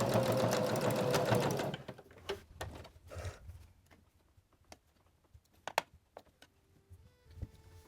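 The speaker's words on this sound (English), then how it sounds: "I'm going to cross this stitching just a little bit to lock it and back stitch" A sewing machine runs a fast burst of stitches on a turtle mop, then stops; scattered clicks, taps and short whirs follow as fabric is shifted and the back stitch is locked.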